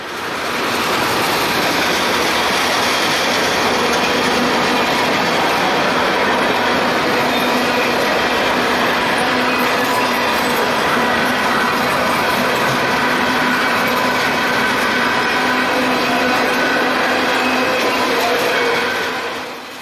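A CSX freight train led by an AC44C6M locomotive passes close by on the Shenandoah Sub, a loud, steady rumble with rail clatter and wheel noise that lasts the whole time, with no voices.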